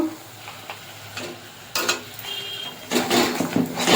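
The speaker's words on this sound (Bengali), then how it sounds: "ভালো করে মশলাটা কষিয়ে নেব" Coriander powder, sugar and turmeric sizzle in oil in a pan for a spinach and paneer dish, with intermittent scraping and clanks of a spatula stirring against the metal pan that grow louder toward the end.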